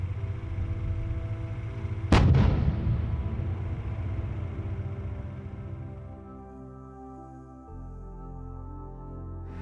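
A single heavy cannon shot from an armoured vehicle's gun cracks out close and loud, then booms and rumbles away over several seconds above a steady idling engine drone.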